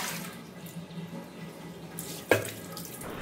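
Running water from a tap pours steadily over a clay mud pot being washed, a continuous close splashing stream with a brief louder clatter near the end.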